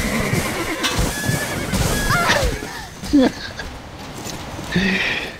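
A horse whinnies and snorts in the game Black Desert, with scattered hoof clatter and impacts over a busy background.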